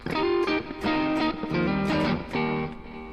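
Electric guitar played through an AC-15 amp with a distortion box in front, loud overdriven chords and notes struck in short phrases with ringing sustain, no speech.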